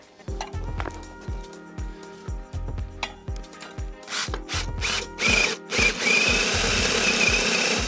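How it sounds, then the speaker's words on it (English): Drilling clearance holes for bolts through wooden blocking in a garage workshop, beginning with a steady run of sharp ratcheting clicks, then loud, close bursts of whirring drill noise in the second half, with no talk. "I've just got some bolts I've got to put clearance holes in for, and that's what I'm going to do now"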